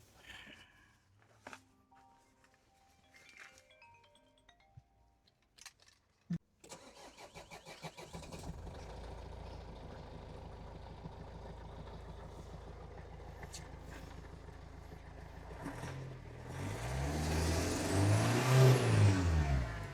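A car with a fully dead battery is jump-started: a few quiet clunks and clicks, then the starter cranks and the engine catches, settling into a steady idle before revving up loud and close, with no talk.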